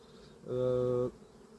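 Black honey bees hum at an opened hive during an early-season inspection, a close, steady, tonal buzz swelling for about half a second over a quiet background.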